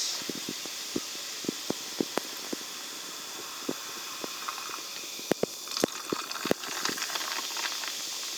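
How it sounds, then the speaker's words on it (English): A steady fizzing hiss of 7-Up lemon-lime soda poured from a can into a glass, with scattered crackling pops and small splashes throughout, close and fairly quiet. "open up this can of 7-Up, and then you pour it into this glass."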